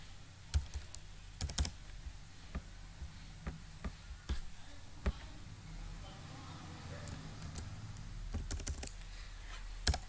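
Values being typed into Excel on a computer keyboard, scattered sharp key clicks and taps, some in quick bursts, close and fairly quiet with pauses between.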